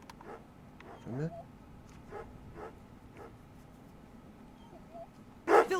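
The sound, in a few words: dog barking and whimpering in Remothered: Broken Porcelain video game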